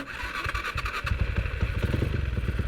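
A Honda CB Tiger motorcycle fitted with an MX 300cc engine block starts up close by and settles into a deep, bassy, rhythmically thumping idle, loud and without talk.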